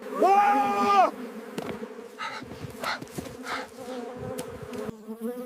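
Honey bees buzz loudly and continuously close at hand at an apiary in Martvili, Samegrelo, Georgia, their drone swelling and fading with a brief voice at the start.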